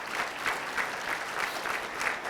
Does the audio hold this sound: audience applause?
yes